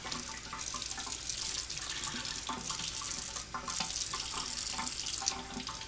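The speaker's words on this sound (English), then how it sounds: "While still washing my stencil under running water, under tap water" Tap water runs steadily into a sink while a stencil is rinsed off an etched beer glass, a quiet, continuous splashing stream with small drips and clinks, no voices.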